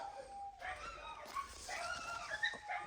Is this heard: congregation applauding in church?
no